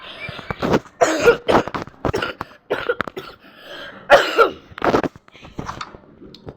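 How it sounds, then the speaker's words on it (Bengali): A person coughs repeatedly in a series of harsh, close bursts with short gaps between them, loud and alone with no talking. "আমার কাশি, এটাকে ইগনোর করো"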